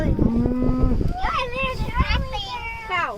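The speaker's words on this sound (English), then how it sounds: "Cow." A cow on a farm gives a low drawn-out moo up close, followed by children's voices chattering.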